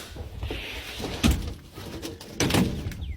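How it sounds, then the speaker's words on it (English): Dull knocks thump on a floor in a room, two distinct heavier impacts about a second apart amid muffled shuffling and creaks, fairly close. "I'm hearing the knocking on the floor again"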